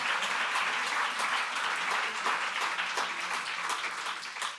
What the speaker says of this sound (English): it's nice to be welcomed anywhere with a round of applause